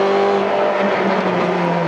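An in-car roar from a rally car under hard braking on a special stage of the 2017 Rajd Wisły. The engine drone stays loud and continuous, and its pitch sags slightly as the car slows.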